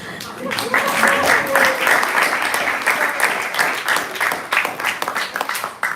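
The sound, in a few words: audience applause for the championship winner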